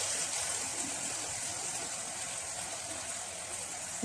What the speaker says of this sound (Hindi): अब मैं इसके अंदर पानी भी इतना ही ऐड करूँगी ताकि कड़ी हमारी पक सके।